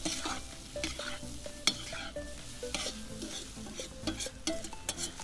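Fried pasta with cumin is stirred in a kazan over a campfire, with repeated scraping clinks over a soft continuous sizzle and no talking.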